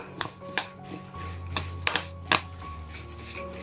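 A spoon clinks against a bowl while oats are mixed with yogurt, making irregular sharp taps spaced across the clip over soft, low stirring.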